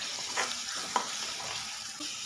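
Meat curry with spices being stirred in a pan, soft scraping strokes over a steady low sizzle, close and with no talk.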